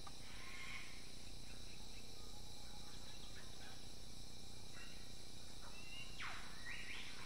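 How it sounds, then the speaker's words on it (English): Wild birds in the No Mans Land Eden map video game, giving several faint, distant chirps and sweeping calls over a steady bed of insect or cricket-like buzzing ambience, with no talking. "Birds here, freaking crazy."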